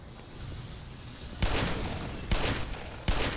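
Gunfire in the video game Black Mesa: a steady patter of distant shots runs throughout, broken by three louder, sharper bursts of nearby fire, with no talking.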